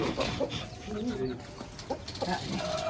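A rooster clucks in short, scattered bursts close by, over a busy background with other bird sounds and faint talk.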